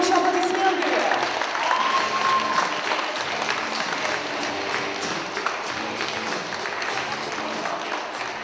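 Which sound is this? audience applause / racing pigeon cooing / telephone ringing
audience applause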